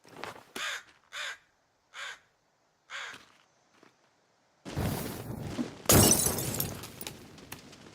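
A crow caws several times at a steady pace in the survival video game The Forest, harsh calls spaced apart at moderate distance, followed by a loud crash and a burst of rough clattering noise, with no talking.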